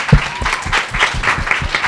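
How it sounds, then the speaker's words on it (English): A short burst of audience applause at a yoga book launch, honouring an author; brisk, close clapping from a modest crowd with some faint voices mixed in. "a huge round of applause for Manish"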